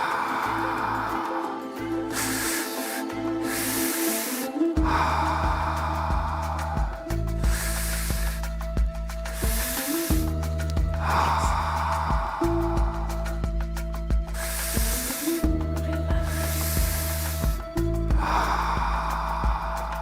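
Deep, rhythmic breaths during a guided breathwork session, long forceful inhales and exhales repeating steadily and close, over a continuous backing of ambient music.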